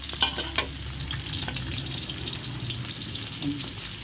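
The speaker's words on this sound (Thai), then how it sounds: "นี่ทอดปลาทูกินกับข้าวเหนียวเนาะ" Mackerel frying in hot oil, a steady close sizzle and crackle with a few brief clinks near the start, alone without talking.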